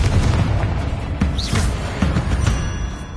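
Confringo and Bombarda spells explode in Hogwarts Legacy on PlayStation 5, a string of punchy game blasts and booms with crackling debris, loud and close.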